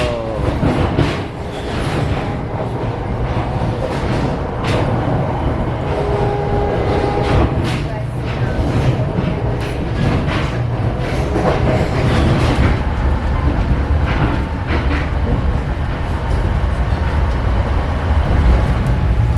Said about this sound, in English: And there's a path train.